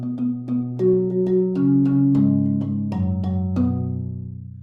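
A marimba played with soft mallets rings out in a sequence of about a dozen rounded, resonant notes that overlap and sustain, close and fairly loud, with no voices.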